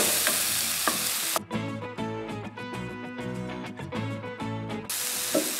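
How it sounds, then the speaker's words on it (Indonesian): Sautéed risoles filling with chopped green onion stirred in a pan, a steady close scrape and soft sizzle with clustered clinks of the spatula against the pan; a gentler stretch opens and the end turns quieter. "Aduk sebentar."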